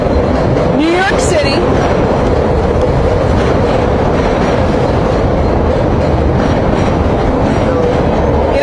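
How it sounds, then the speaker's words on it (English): A loud train rumbles and clatters past at close range in Brooklyn, a steady roar with a metallic squeal, while a person speaks underneath. "because the train was passing"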